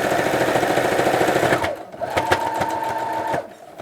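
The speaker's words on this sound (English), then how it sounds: "And then I'm just going to continue sewing along." A domestic sewing machine stitches a sleeve seam from the hem up to the armhole, a steady rapid mechanical whir that runs loudly and continuously, then eases off and slows near the end.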